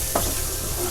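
A spice masala is stirred into a chicken biryani base in a pan, giving one short scrape near the start over a steady close sizzle of hot oil, with no voices.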